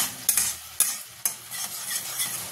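Spice paste for a Bengali fish curry, seasoned with salt, turmeric and a little cumin powder, is stirred and fried in a pan. A steady sizzle runs underneath, with a few sharp scrapes and clinks of the spoon against the pan.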